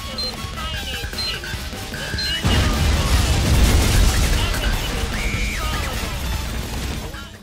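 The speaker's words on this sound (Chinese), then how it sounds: "将梅子淹没在爆炸声里。" A time bomb going off in a survival action film on an island, a heavy booming blast that swells and rumbles for several seconds amid music and sound effects.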